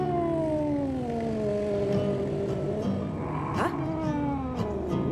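A stubborn cat at a school in DreadOut 2 gives a long, wavering caterwaul, loud and near, trailing off before a short second cry over steady background game sound.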